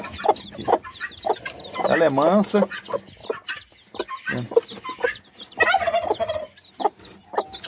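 Newly acquired chickens and a turkey call close by, with repeated gobbles, clucks and squawks in irregular bursts, while a person speaks briefly among them.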